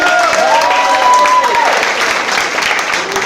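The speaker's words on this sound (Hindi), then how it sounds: "तो एक बार जोरदार ताली" Audience applause at a microcontroller workshop feedback session: a steady, dense wash of clapping fills the whole stretch, with a voice speaking briefly over the opening moments.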